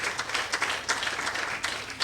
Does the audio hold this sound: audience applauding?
yes